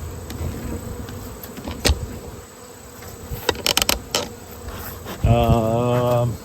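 Honeybees hum and buzz around a hive in an apiary during mite checks, with close passing buzzes, a few sharp knocks and clicks, then a louder buzzing drone near the end.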